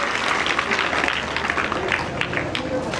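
A crowd applauds a welcome at a college event with steady, dense clapping that holds the whole time, fairly loud and close, with a voice faintly underneath.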